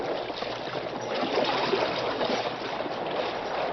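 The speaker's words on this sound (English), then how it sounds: "The mighty paddle wheels whipped the water into white foam." Paddle wheels of a paddle steamer churn and splash through water in a radio drama effect, a steady broad wash of rushing, foaming water that swells slightly midway, with no voices.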